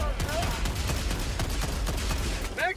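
Rapid automatic gunfire in a sci-fi shooter video game, a dense run of sharp cracks over roughly two seconds amid explosions and battle noise, ending as the magazine runs dry, with voices talking in the mix.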